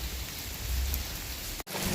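Heavy rain pours during flooding in the streets of Ludhiana, a dense, steady close rush that stays loud and unbroken apart from one brief dropout near the end.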